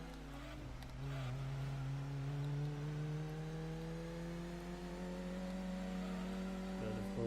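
Ford Taurus racing in Gran Turismo 2, a steady engine drone rising gradually in pitch as it accelerates, close and continuous with faint tyre and track noise, no talking.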